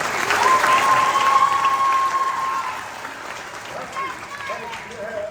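Audience applause at a live magic-versus-science show, greeting a young volunteer: dense, loud crowd clapping that fades toward the end, with a voice speaking over it.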